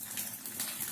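Running tap water gushing briefly while a plate is rinsed in a kitchen, a bright continuous splashing hiss heard alone for about a second.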